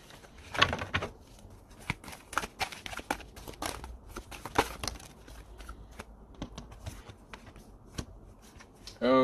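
Tarot cards shuffled and handled by hand in repeated quick riffling bursts, crisp papery flicks and taps close up, with a brief louder rustle at the end and no talking.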